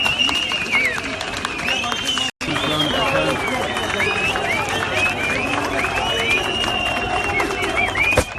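Outdoor crowd at an anti-fracking protest facing police, claps and calls spread over a busy, noisy scene, with a brief dropout partway through and a steady din throughout.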